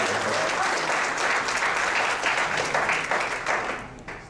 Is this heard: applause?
yes